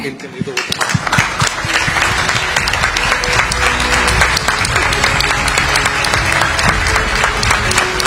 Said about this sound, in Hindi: तो एक स्टैंडिंग ओवेशन बनती है।